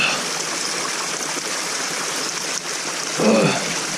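Mountain spring water flowing steadily in the Catskills, a continuous close, bright rushing trickle that holds even throughout, with a brief louder burst near the end.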